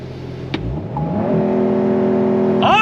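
Porsche 992.1 911 Carrera S engine going on throttle, revs climbing steadily from a low idle into a loud rising whine, then a gearshift near the end.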